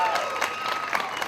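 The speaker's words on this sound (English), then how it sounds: "Let's give her another round of applause." Audience at a National Historic Landmark dedication gives a brief burst of applause for the county clerk, a short wash of clapping with a few voices in the crowd.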